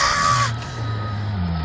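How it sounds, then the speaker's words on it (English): A familiar scream in a Doctor Who fan audio drama, a loud high cry that cuts off after about half a second, leaving low rumbling ambience beneath. "From Silver's left, she hears a familiar scream."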